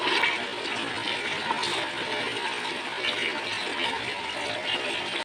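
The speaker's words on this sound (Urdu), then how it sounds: "اس میں سے چینٹیں نکلتی ہیں جب اس میں پانی ڈالتے ہیں" Water is poured into a hot starch halwa mixture in a pan, giving a continuous rushing, hissing splatter that stays fairly loud and steady for about five seconds.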